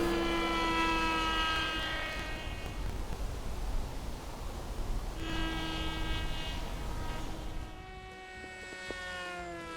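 An Opterra 2 m electric RC flying wing with an 11.1 volt battery flying by and coming in to land, a steady whirring electric motor whine that rises and falls in pitch over a constant background rush of wind.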